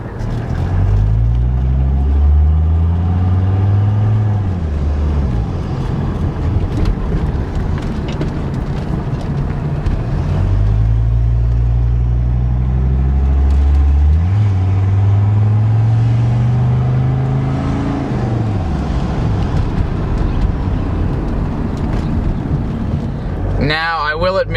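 A Mercedes-Benz 300TD wagon with its exhaust cut off, driving: a loud, raw engine drone rising and falling through repeated gear changes, heard close and continuous with wind noise.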